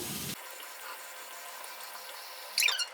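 Water runs steadily from a tap, a soft continuous hiss with a brief louder splash near the end.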